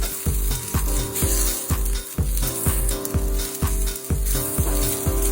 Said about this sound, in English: We're gonna stir often so it doesn't stick and they roast on all sides.